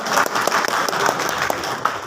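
At a BJP party meeting in Bhadra, a hall of people clap briefly but steadily in a dense, even patter of applause, with individual claps audible in the mix.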